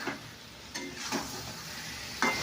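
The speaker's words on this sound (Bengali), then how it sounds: "এবার আলুটা দিয়ে দিলাম, এর সঙ্গে ডিমটাও দিয়ে দিলাম।" Boiled potato and lightly fried egg sizzle in a pan, with steady frying crackle and a few soft stirring scrapes.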